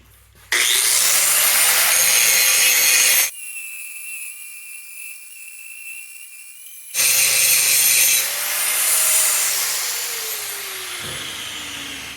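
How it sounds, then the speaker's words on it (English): A grinder thins a metal piece for a crossbow in two long, loud, high-pitched bursts, separated by a few seconds of quieter motor hum as the tool idles and spins down. "just get back on the grinder, thin it out some more"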